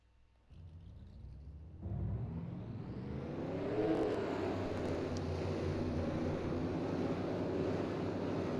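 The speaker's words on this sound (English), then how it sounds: "And now let's get the cars rolling off." Race car engines in a Bristol Motor Speedway racing game build up and hold a steady, loud droning roar as the pack rolls off, with rising revs and a dense layered engine rumble throughout.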